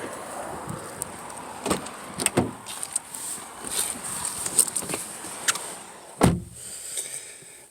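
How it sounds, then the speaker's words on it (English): A car door being opened outdoors beside a road, with a sharp latch clunk near the end following scattered handling knocks and light rustling under a steady background hiss; no talking. "Oh, 1 second as I open up the car."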